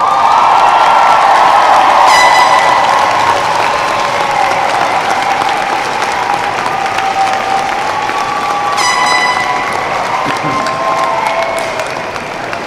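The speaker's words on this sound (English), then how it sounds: "give them a round of applause" Applause and cheering at a university nursing graduation ceremony, a broad steady wash of clapping with scattered whoops and shouts, sustained for several seconds while a voice speaks over it.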